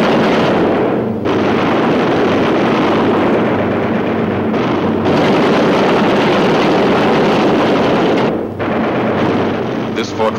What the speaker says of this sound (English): Engine on fire, losing airspeed and altitude. Drifting into the flak, alone and helpless.